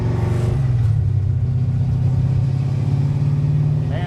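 A car converted to a carburetor pulls hard on a test drive, its engine rising into a deep, loud, rumbling drone that builds after the first half second and holds steady, with a brief voice at the very end.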